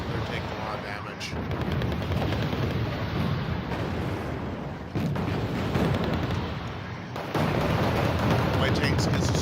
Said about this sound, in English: My Canadian airborne are getting caught out in the machine gun fire, so they're taking a lot of damage